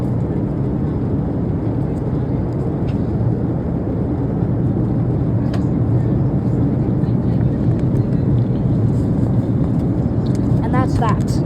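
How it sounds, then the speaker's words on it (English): Cabin of an Alaska Airlines airplane in flight to New York, a steady, loud low engine and air drone filling the clip, with faint voices of people talking underneath. "we're on a flight for New York, and we're on the Alaska Airlines airplane."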